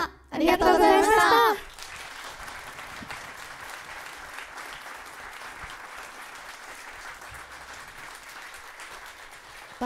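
A concert audience breaks into loud applause right after a sung performance ends at an acoustic idol show. The applause stays steady and moderately loud for most of the stretch.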